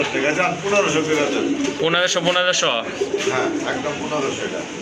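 Large pouter pigeons coo in soft, rolling, throaty phrases at close range, heard under steady nearby talk at a pigeon seller's.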